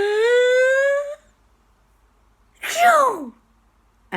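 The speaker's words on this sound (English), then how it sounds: "She sneezed" A single sharp sneeze bursts out in a dusty room, breathy and close, after a long high tonal sound and a short silence.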